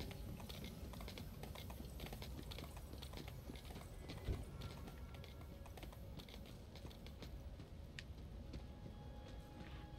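Steady clip-clop of horse hooves trotting in a continuous rhythm, layered over busy background sound from the video game Tiny Tina's Wonderlands, with no talking.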